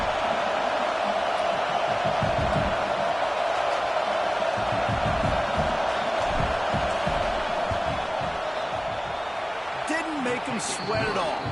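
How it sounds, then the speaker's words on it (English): A large football stadium crowd roars continuously during a college field goal attempt, a dense, loud wall of sustained noise that eases slightly near the end as a few sharper sounds break through. "This crowd trying to do its part to get inside the kicker's head."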